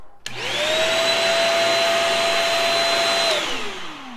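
A Shark Rocket Ultra-Light stick vacuum cleaner switches on with a whine, runs steadily with a high motor tone for a few seconds, then winds down.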